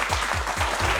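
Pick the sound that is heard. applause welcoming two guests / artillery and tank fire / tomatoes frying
applause welcoming two guests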